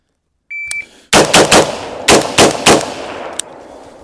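Rifle shots at targets in quick sharp bursts, loud and close: a lone electronic beep, then one group of three fast cracks and a second group of three, with a final fainter pop.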